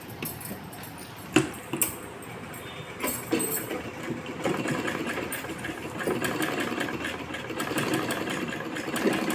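A sewing machine stitches a long skirt with a steady, whirring mechanical run, opening with a few clicks and short bursts before settling into continuous close stitching.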